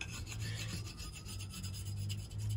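A steel knife edge rubbing and rasping against the unglazed ring of a ceramic coffee mug, a steady, close, scratchy grinding that continues for a few seconds with no talking.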